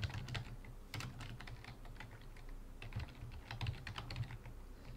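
A comment is typed on a computer keyboard as a steady run of close, soft key clicks with a few louder taps, over faint background hiss and without speech.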